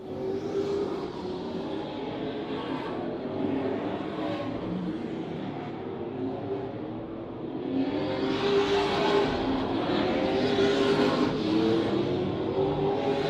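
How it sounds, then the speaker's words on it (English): Short track race cars circle the track, their engines droning steadily from some distance and swelling louder as the pack passes nearer in the second half, with no voices. "We got some really good race cars on the track."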